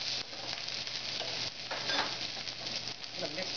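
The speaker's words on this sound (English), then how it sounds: "Mix them together a little bit, keep them moving, maybe give them a little toss." Carrots, leeks, snow peas and bean sprouts stir-fry in a hot pan for spicy udon, giving a steady close sizzle with soft scraping stirs and a brief shift midway.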